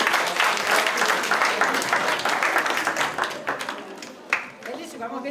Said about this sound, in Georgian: ტაში დაუგრათ